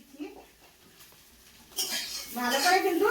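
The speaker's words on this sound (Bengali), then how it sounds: "এখন ভালো করে নেড়ে চেড়ে দেবো" Boiled potatoes, stems and green chilli are stirred in a pan, giving scraping clatter and a sizzling hiss that swells in the second half, with someone talking at the start.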